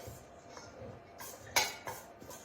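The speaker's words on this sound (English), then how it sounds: "we'll just give that a stir with the spices now" A spoon clinks and scrapes against a bowl while a cilantro salad is stirred with spices, quiet rustling with a few sharper metallic taps near the end.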